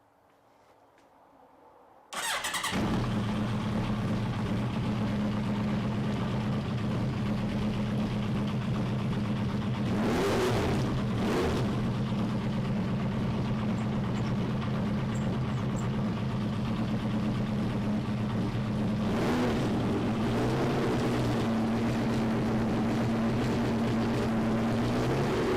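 A Suzuki Hayabusa GSXR1300 motorcycle fires up on its first start after a service, then settles into a loud, steady idle with a couple of brief surges in engine note.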